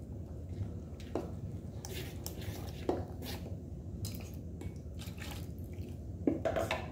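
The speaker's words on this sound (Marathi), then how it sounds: "पाणी घालायचं आहे त्यामध्ये।" Water is poured and mixed into a moong dosa batter in a bowl. Soft trickles and drips come with light clinks of a utensil against the vessel, quiet and close.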